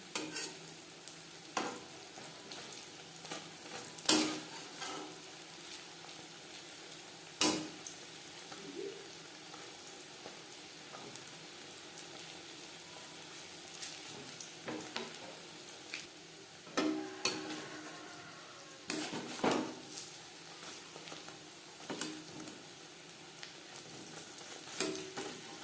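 Drumstick flower pakoras fry in oil with a steady low sizzle, punctuated by intermittent clinks and scrapes as they are stirred and flipped, close and quiet throughout.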